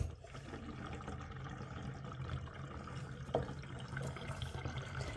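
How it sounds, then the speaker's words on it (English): Water draining out of a toy swimming pool, a faint low gurgle and trickle with a soft splash partway through. "Water draining away."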